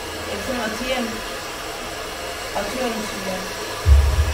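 A hair dryer straightening hair: a loud, steady blowing roar that continues throughout, with faint voices underneath and a low rumbling thump near the end.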